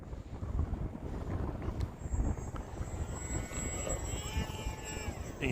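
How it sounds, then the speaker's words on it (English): Steady wind rushing across the microphone while a Hobbyzone Aeroscout RC plane flies outdoors on a windy day, with a faint motor whine rising and falling in the background throughout. "The wind can be really fun to play with if you're careful."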